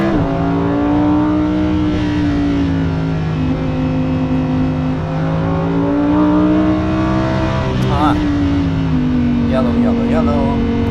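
A Lamborghini Huracán Performante's V10 drones at high revs around the Nürburgring, pitch holding and shifting through gears with a brief rise and fall, loud and close from inside the cabin while a driver talks over it.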